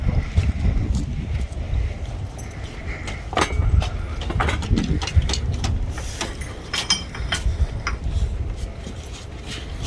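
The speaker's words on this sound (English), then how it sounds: "I pulled off one of the motors, so it's making a noise." A wagon's motor runs with one of its motors pulled off, producing a continuous low, rough rumble with scattered clicks and rattles, close and fairly loud for the whole stretch without speech.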